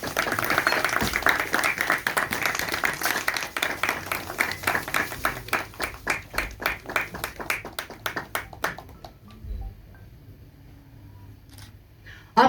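Loud applause from an audience at a poster launch for an album song, a dense burst of clapping that thins into scattered separate claps and fades to near silence.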